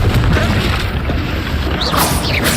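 A Confringo blast spell in Hogwarts Legacy erupts as a loud, dense burst, sustained booming rumble for a couple of seconds with crackling debris, close and dominant with no talk.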